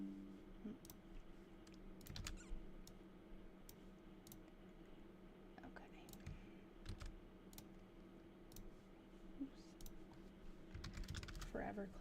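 Rapid clicking and tapping at a computer desk, irregular bursts of sharp close clicks spread across the whole stretch, with quiet room noise and brief murmurs between them.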